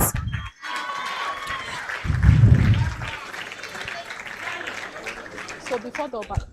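Audience clapping at a university faculty awards ceremony, a sustained patter of hands from a seated crowd, with a voice speaking over parts of it and a brief low thump partway through.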